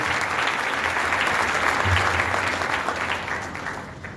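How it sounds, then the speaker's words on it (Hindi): A church congregation applauds Sunday school children and their teachers, sustained, fairly loud clapping from many hands that stays even and then begins to taper off. "हम सभी मिलकर संडे स्कूल के बच्चों के लिए और टीचर्स के लिए तालियां बजाएंगे"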